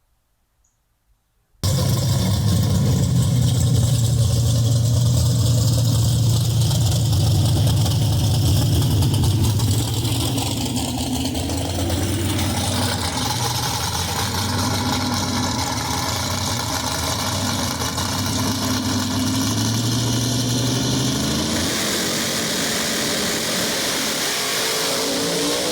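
After a brief quiet, the Wayne County Avenger nostalgia drag race car's engine rumbles loudly at idle before a final round at the Wally Parks Nostalgia Nationals, its note wavering and rising with occasional revs, heard close up without talk.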